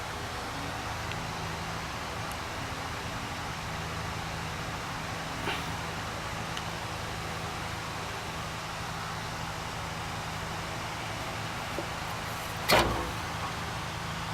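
A vintage Penncrest box fan spinning after a hand start, giving a faint, steady low hum and airy whir with a brief knock near the end.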